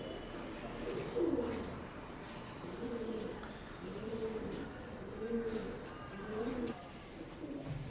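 Red-eyed golden teddy pigeons coo in the shade, a run of soft, rolling coos repeating every second or so, close but fairly quiet against a faint background hum.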